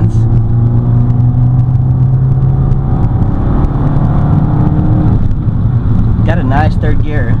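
A Fiat 500 Abarth engine pulls hard and loud under boost after an upshift, a steady buzzing drone with road rumble, rising toward the end.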